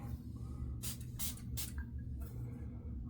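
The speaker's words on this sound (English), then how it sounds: "Put the brand new sprayer on." Aftershave splash sprayed from a brand new pump sprayer: three quick close hisses in a row, then a softer fourth spray, over a low background hum.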